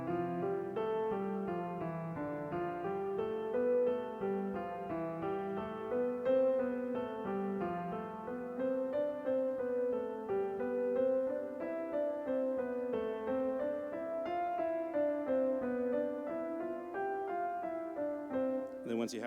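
A keyboard finger exercise for worship practice, with steady stepwise notes moving up and down at an even pace, moderately quiet and alone with no voices.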